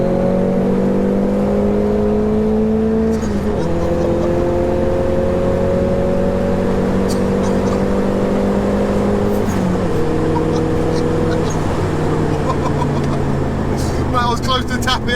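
A 340 bhp Nissan Pulsar GTI-R four-cylinder engine pulls hard from inside the car, rising in pitch through each gear with brief dips at the shifts, and voices talk over it.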